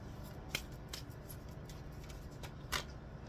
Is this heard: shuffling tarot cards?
yes